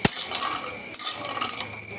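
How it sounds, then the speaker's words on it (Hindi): Cashews frying in butter in a hot pan, with a bright steady sizzle under a couple of clinking stirs from a utensil against the pan, close and fairly loud. "अब इसमें डाल दूंगी काजू। तो काजू को हम फ्राई कर लेंगे।"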